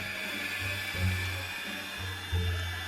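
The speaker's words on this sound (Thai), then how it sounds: "มีเสียงเหมือนเป็นเลื่อยเนาะ" A steady saw-like whine drones through a Roblox horror maze game, a continuous buzzing tone that pulses louder at intervals against a busy background of game noise.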